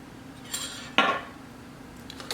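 Utensil clinking against a bowl while stirring seasoned food with olive oil spray, salt and cinnamon, one sharp scrape-clink burst near the middle among lighter taps, close and fairly quiet.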